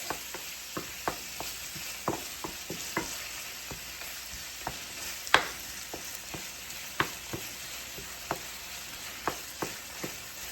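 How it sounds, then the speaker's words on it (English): Seasoned ground chuck browns in a pan with a continuous, moderate sizzle. A spatula scrapes and taps against the pan in a steady rhythm about once a second, with no talking. "I'm going to let my ground chuck brown up here."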